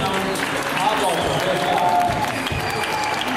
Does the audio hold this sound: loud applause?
yes